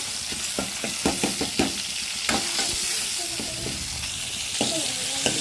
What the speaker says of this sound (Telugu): టమాటాలు అయితే బాగా ఫ్రై అవ్వాలండి బాగా ఫ్రై అయిన తర్వాత మసాలా వేసుకున్నాం